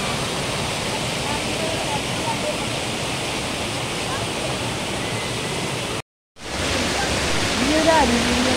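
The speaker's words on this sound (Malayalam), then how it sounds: "ഈ ഒരു അടിയിൽ നിന്നാണ് താഴേക്കെല്ലാം വെള്ളം പോകുന്നത്." Water rushing down a small waterfall at Thrithala Mudavannoor, a loud, steady, close-up roar of falling water with a brief cut near the end.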